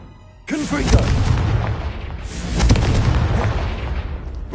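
A Confringo fire spell bursts in Hogwarts Legacy, with a sudden loud boom that rolls into a sustained roaring blast, a second heavy thump swelling partway through.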